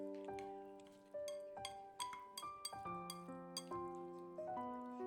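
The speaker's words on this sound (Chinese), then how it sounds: "然后用筷子搅拌均匀，使每一块豆腐丁都裹上一层鸡蛋液。" Chopsticks stirring a raw egg with diced tofu and a little salt in a bowl, giving a series of light, bright clinks against the bowl, irregular and fairly quiet, with no talking.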